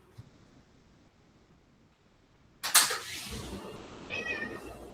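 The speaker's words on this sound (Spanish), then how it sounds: "le voy a abrir a mi gato que me están matando llorando" A house cat cries to be let in: faint background for a few seconds, then loud, close meows that break in abruptly and continue in drawn-out wails.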